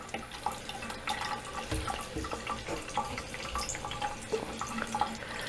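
Cold water running steadily from a newly plumbed bathroom sink faucet in an old house, a close, continuous splashing stream with faint drips throughout.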